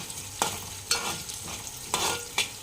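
Coriander seeds dry-roasting in a pan, stirred with about five distinct scraping strokes spaced roughly half a second apart over a low background hiss, close and fairly quiet, with no voices.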